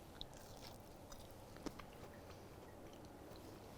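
A gooey, butterscotch-ribboned blondie is bitten and chewed close up, with a few soft crunchy clicks over a quiet, steady background.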